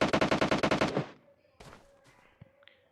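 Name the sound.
gunshots in a video game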